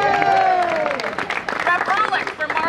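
Audience applause at a political endorsement rally for representatives and mayors, scattered clapping mixed with crowd hubbub and overlapping voices throughout.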